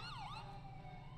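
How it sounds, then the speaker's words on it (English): In a video game patrol, a police siren sweeps downward then rises again in a quick wailing glide, faint and distant over a low, steady engine rumble. "Honking and spamming the sirens."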